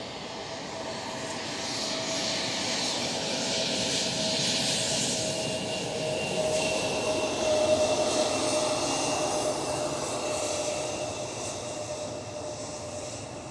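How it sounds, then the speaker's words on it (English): A KLM City Hopper Embraer E175 regional jet at Amsterdam Schiphol, a moderate, steady engine roar with a thin high whine, swelling slightly midway and then holding, heard alone without voices. "KLM City Hopper."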